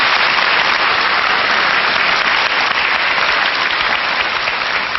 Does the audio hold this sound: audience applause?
yes